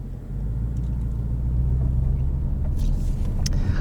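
A 2020 Ford Mustang GT Performance Package with an automatic gearbox pulls away on a rocky surface, its engine a loud, steady low rumble from inside the cabin, with a few faint clicks and rattles.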